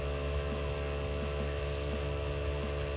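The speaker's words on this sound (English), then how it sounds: "simply push the tire chuck onto the valve stem and power on the compressor." A JACO TrailPro heavy-duty 12V portable air compressor, used as an off-road tire inflator, runs at a steady pace: a constant motor hum with a faint regular pulse, even in loudness throughout, with no voices.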